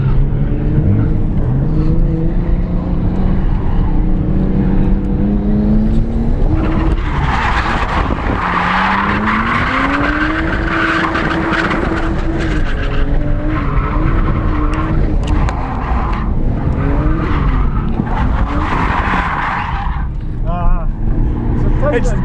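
A Nissan Skyline drifting with clutch-kick entries, engine roaring loud and constant as tires squeal and skid through long slides, with people talking over the noise.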